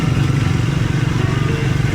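A motorcycle rides along a busy ghat road to Nelliyampathy amid cars and a group of riders, its engine droning loud and close with a steady throb and road rumble.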